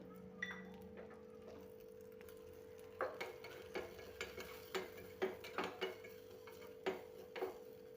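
Cashews, almonds and raisins frying in ghee, with a steady low hum and scattered faint sizzles broken by a run of sharp ticks and taps, like a spoon stirring against the pan.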